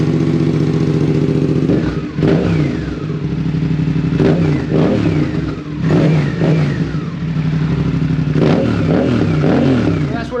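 A 2024 Suzuki GSX-8S motorcycle fitted with a new aftermarket exhaust idles with a deep, steady rumble, broken by several throttle blips that rise and fall, recorded loud and close.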